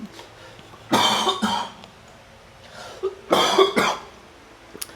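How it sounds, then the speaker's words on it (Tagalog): Two bursts of coughing, each a pair of quick harsh coughs, close and fairly loud, separated by a couple of seconds of quiet. "Ubo lang ako."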